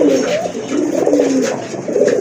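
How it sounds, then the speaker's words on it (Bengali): Large red Rajgolla pigeons coo loudly and close by in a bird market, their deep rolling calls overlapping continuously with no talk over them. "অনেক বড় সাইজের আরেক জোড়া রাজগোল্লা কবুতর"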